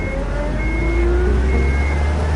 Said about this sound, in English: Crap, they started the engine.